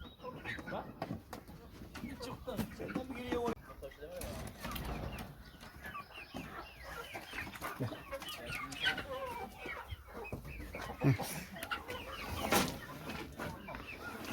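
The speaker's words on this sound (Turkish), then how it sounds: "Tavuklarımız kana kana içiyor." Chickens cluck and murmur continuously at close range, with scattered sharper squawks and rustling, fairly quiet overall.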